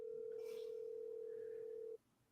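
An outgoing phone call rings unanswered over speakerphone, a single steady ring tone sounding for about two seconds before cutting off, faint and alone.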